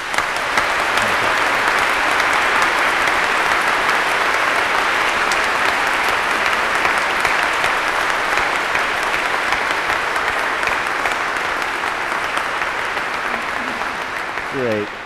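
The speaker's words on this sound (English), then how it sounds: "That was wonderful to have that spontaneous applause." A congregation at a 2017 priesthood ordination breaks into spontaneous applause, a loud, dense, steady clapping that fills the church for about fifteen seconds before starting to taper.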